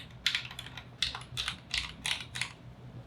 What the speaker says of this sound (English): The brass seems like it's a lot more clacky